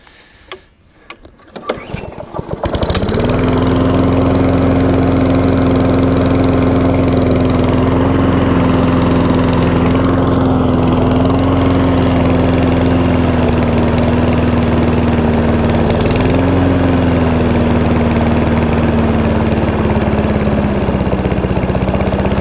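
A BCM Big 20 lawn mower engine starts with a few rough sputters, then settles into a loud, steady idle with a slight dip and recovery in speed, close up and continuous.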